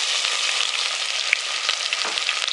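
Cumin seeds and onion fry in hot oil, giving a dense, close, continuous sizzle with small crackles and no talking.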